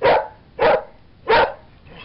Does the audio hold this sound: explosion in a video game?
no